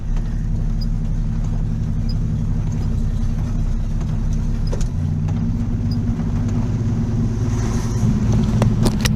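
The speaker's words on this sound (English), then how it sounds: "Revving it and playing with it so hard." A 1967 Ford Mustang engine rumbles loudly and steadily at close range, a deep throbbing drone that holds nearly constant, with a slight rise in pitch near the end.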